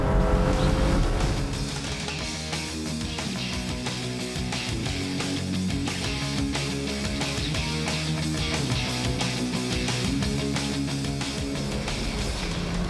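The 3.2-litre six-cylinder engine of a 1997 BMW M3 Evolution works at full power, a loud, dense, continuous roar that stays steady from start to finish, with no voices.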